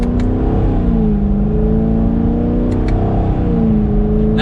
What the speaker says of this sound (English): for this automatic, we'll give it a slight acceleration